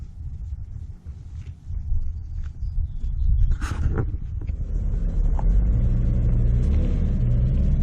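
A Chevrolet Trailblazer engine rumbles nearby, revving up and then settling into a steady low drone as the vehicle pulls away, no talking.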